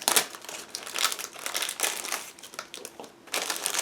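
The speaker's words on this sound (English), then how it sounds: "Plastic bag is sealed, so just give me a second to open it, and we'll check everything closer." Sealed plastic bag holding model kit sprues for a 1/35 Su-85 tank interior being torn open and handled, loud close crinkling and crumpling in irregular bursts, with no talk.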